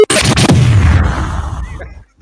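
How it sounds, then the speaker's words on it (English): Explosion sound effect played on a sports talk show, a loud close boom with a rumbling tail lasting about two seconds before cutting to silence. "Tony, an explosion, please, if you could"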